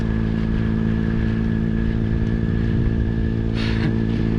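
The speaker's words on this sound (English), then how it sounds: "I've got a 50cc bike behind me" A small 50cc motorcycle engine drones loudly and steadily close by, a constant buzzing hum with no break.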